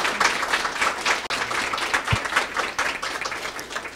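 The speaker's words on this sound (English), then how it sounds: "let's give another round of applause to our panelists" Steady applause from an audience thanking a discussion panel fills the whole stretch, a dense, even patter of many hands clapping.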